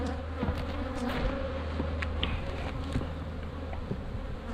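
Honeybees swarm loudly around an open hive box holding roughly a box and a half of bees, a dense steady buzzing drone close by with individual bees zipping past the listener.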